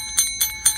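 Repaired service call bell struck three times in quick succession, each a bright sustained metallic ding, close and clear with no talk.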